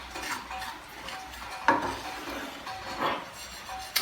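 A spoon scraping and stirring semolina as it roasts in a pan for sheera. Soft, uneven scrapes and light clinks of metal against the pan come close up, with one sharper knock midway, and nobody speaks.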